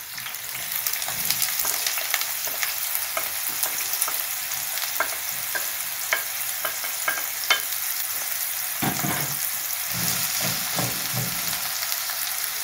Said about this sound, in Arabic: ها انتما درت هنايا شويه ديال زيت المائده في المقله، وغادي ندير البصلة